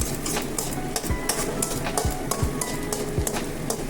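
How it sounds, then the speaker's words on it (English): Paneer sabzi paste frying in oil, a dense loud sizzle with repeated spoon scrapes and stirring knocks in an even rhythm, close up. "Then fry till the oil separates."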